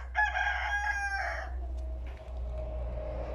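A rooster crows once among chickens on a small farm, a loud crow fading into quiet clucking and low background hum.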